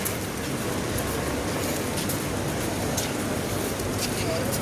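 Heavy rain pours down at night, a dense, steady roar of broadband wash that stays even and close throughout, with no clear gaps or distinct drops standing out.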